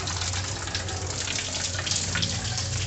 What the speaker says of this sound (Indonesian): Airnya sudah meluber, sudah meluap.